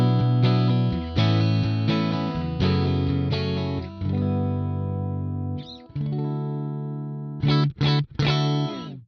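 Electric guitar through the clean amplifier of the Archetype Plini X plugin on its default preset, ringing chords and arpeggios with chimey highs and full lows, close and loud, ending in a few sharp stabbed chords.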